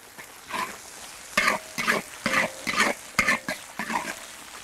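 Doubanjiang bean paste and sauce frying in oil in a wok, bursts of crackling sizzle in uneven pulses as the paste is stirred, fairly close with quiet gaps between strokes.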